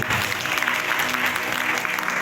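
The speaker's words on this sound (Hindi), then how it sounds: "ताली बजा प्रभु को।" A church congregation clapping during a Hindi sermon on anointing: dense, steady applause from many hands filling the room, with faint voices mixed beneath.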